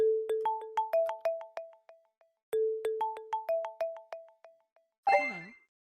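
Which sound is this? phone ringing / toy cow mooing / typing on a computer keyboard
phone ringing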